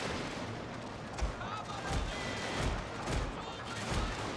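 Troops volleying muskets in a strategy video game set in the Far East with Prussian forces, a continuous crackle of distant massed fire broken by several heavier reports, under a busy battle ambience.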